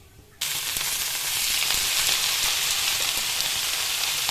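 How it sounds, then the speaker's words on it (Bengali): Garlic browns in a hot pan for Bhutanese shamu datsi, a loud sizzle bursting in suddenly after a quiet moment and holding steady and close, with faint scrapes of stirring under the hiss. "এটা কিছুক্ষণ নাড়তে হবে। রসুনটা ব্রাউন করে ভেজে নিলাম।"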